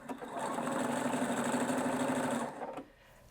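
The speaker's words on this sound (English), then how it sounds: "which if I press it and it's highlighted, it will continually sew backwards" A Husqvarna Viking Brilliance 75Q sewing machine runs in reverse with a steady, close mechanical whir that holds for over two seconds, then stops abruptly with no voices.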